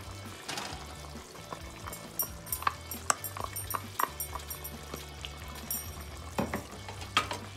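Chicken kurma curry having ground masala paste of pepper and cashew mixed in, with irregular spoon knocks and scrapes against the pot over a low bubbling simmer.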